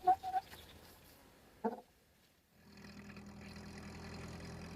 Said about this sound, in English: Foiled by a flock of renegade chickens.